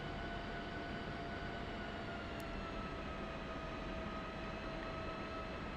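An F-16 jet engine runs just above idle during taxi, a steady loud whining roar with sustained tonal whine lines and a broad rushing noise that holds constant throughout, with no talking.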